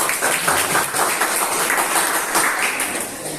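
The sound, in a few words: audience applause for group 1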